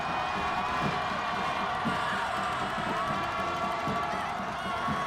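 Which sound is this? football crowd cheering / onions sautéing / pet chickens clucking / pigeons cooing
football crowd cheering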